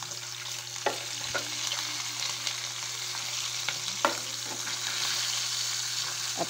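Food fries in a pan with a steady sizzle throughout, joined by occasional sharper crackles and pops, close and moderately loud with no voices.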